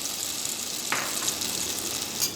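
Egg poured into a pan of hot oil for an Indian egg pouch, giving a steady close sizzle with a sharp crackle burst as it lands; no talking.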